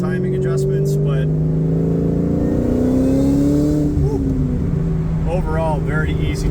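A supercharged 2004 Mustang Cobra engine runs hard on a dyno, giving a loud, close, steady drone with shifting, rising harmonics throughout. A voice briefly comes through near the end.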